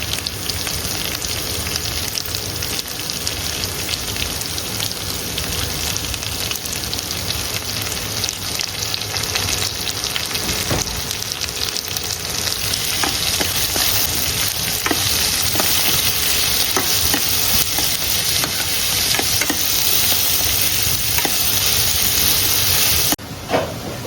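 Onions sizzle and fry steadily in a hot pan in a home kitchen, with occasional stirring scrapes breaking through the continuous hiss over about twenty-four seconds, close and loud, with no talking.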